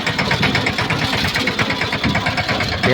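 A tractor engine runs close by during a wheat harvest, a loud continuous rumble with a fast rhythmic chugging pulse and steady vibration, heard alone without talk.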